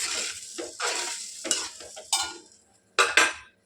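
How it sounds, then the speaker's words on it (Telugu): Curry mix being stirred in a pan while it sizzles, with bursts of scraping and frying that rise and fade in several strokes and stop briefly near the end. Close and fairly loud, with no talking. "curry mix"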